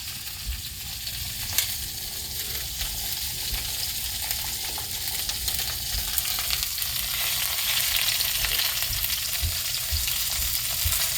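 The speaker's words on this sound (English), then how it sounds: "all I'm doing is searing these." Pork chops searing in a big pan, a loud continuous sizzle and crackle of frying fat with occasional pops, steady and close throughout.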